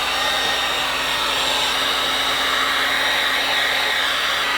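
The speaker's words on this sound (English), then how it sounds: "so I hit it again, this time with a bigger heat gun." A large electric heat gun blows hot air onto a Chevy truck part, a steady, close, loud hissing whoosh with a constant motor hum, running without pause and without speech.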